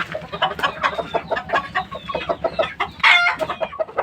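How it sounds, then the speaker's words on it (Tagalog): White Kelso gamefowl chickens cluck busily with short repeated calls, several birds close by, and one louder squawk near the end. "Ayan yung white kelso namin mga kasabong."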